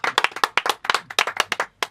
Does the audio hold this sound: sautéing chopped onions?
no